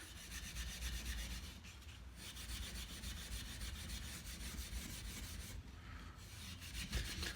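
Steady, continuous rasping of a file on wood while shaping a fretless slider for a cigar box guitar, close and even with a couple of brief breaks in the strokes, no voices.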